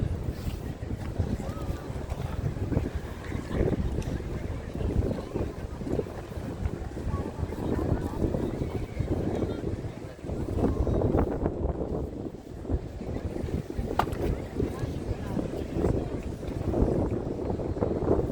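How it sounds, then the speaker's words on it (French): Gusty wind buffets the microphone continuously, a rough rumbling roar that rises and falls over the whole stretch. "Il y a du vent, hein."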